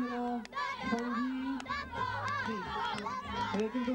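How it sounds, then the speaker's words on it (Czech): Young people cheer and shout amid lively crowd chatter at a 2004 village celebration marking 600 years of Ohníč. Several excited voices rise and fall continuously, close and loud. "Tady omladina, fandí."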